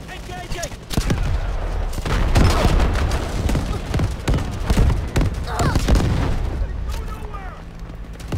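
An artillery barrage in Delta Force: Hawk Ops, with repeated heavy booming explosions and crackling blasts rolling one after another, loud and close, mixed with game voice chatter.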